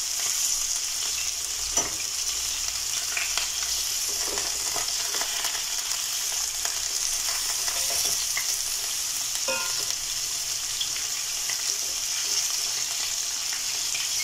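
Meatballs sizzle in a frying pan with a constant bright hiss and crackle, joined now and then by soft scrapes and taps as they are turned over.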